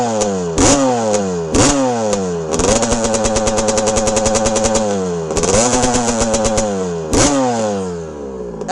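A 1982 Honda CR125R two-stroke dirt bike engine runs close and loud, revving in repeated rising blips between a crackling, buzzy idle, with a sustained high rev in the middle.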